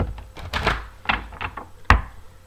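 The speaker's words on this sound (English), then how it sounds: "One more shuffle, please." Several quick papery riffles and soft slaps of tarot cards being shuffled, close up, ending with a sharper tap; no talking.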